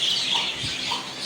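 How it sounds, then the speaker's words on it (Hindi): A red rooster in an uncle's backyard bird setup gives a couple of short, soft clucks at moderate distance against a faint outdoor background. "ये जो मुर्गा है ये हर वक्त ऊपर क्यों चढ़ा रहता है?"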